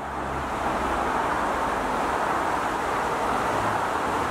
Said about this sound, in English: Apart from the noise of the traffic